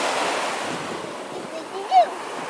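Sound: ocean waves breaking on Panama City Beach

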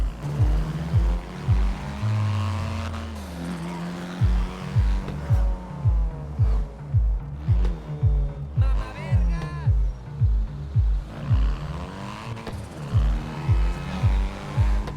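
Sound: modified BMW convertible exhaust revving in video game GTA 5

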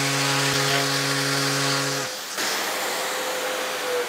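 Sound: sanding the trimmed ends of homemade tongs into a curve

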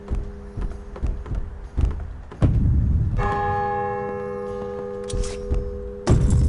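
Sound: church bells ringing in video game Hype: The Time Quest

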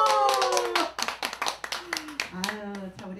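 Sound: audience applause

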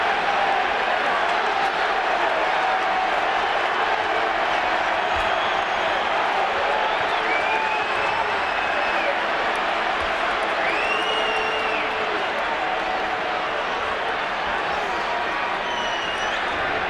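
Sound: baseball crowd cheering Bobby Cox arguing with umpire

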